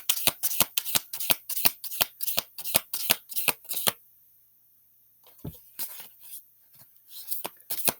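A new, slippery deck of tarot cards being shuffled, with a fast run of crisp riffling flicks, a short pause, then more shuffling, close and clear.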